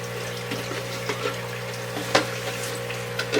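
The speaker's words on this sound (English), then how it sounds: "we're going to take our bucket here, and we're going to bucket some water out of this tank" Water is scooped with a bucket out of a home aquarium tank, giving steady sloshing and trickling with small splashes and one sharper plunge, close by and with no talk.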